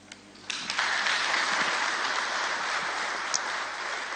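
A crowd at a live memorial broadcast gives a sustained round of applause. It starts abruptly and holds steady, dense and fairly loud, for several seconds.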